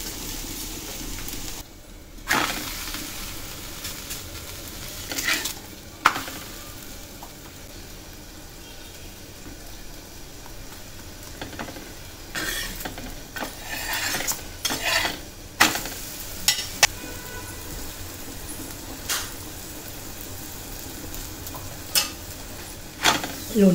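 Bathua paratha cooks with oil on a hot tawa, with a quiet sizzle under intermittent scraping and tapping of a spatula or ladle on the griddle.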